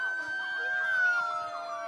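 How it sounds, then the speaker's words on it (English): Police and fire vehicle sirens from Elmhurst blare at full volume while leading off an outdoor St. Patrick's Day parade on Spring Road, a loud, close, continuous wailing. "here we have the police and fire from Elmhurst leading off the parade, full sirens blaring"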